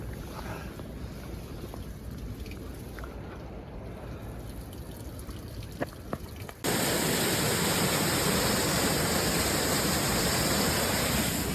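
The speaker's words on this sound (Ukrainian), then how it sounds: "Такий водоспад і написано стара гідроелектростанція." A steady roar of rushing water from a waterfall at an old hydroelectric station in the Alps fills the air, loud and continuous, with faint wind rumble at first before the full cascade takes over.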